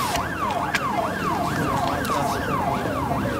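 An ambulance siren wails, rising and falling in a steady repeating cycle, loud and close, over a constant rumble of traffic.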